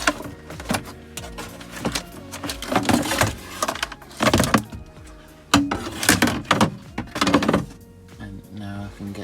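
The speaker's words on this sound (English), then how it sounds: "now I need to remove" Clattering, rattling and thumping of a box being pulled out from inside a camper van near the handbrake area, with irregular knocks and scrapes throughout, fairly close and moderately loud.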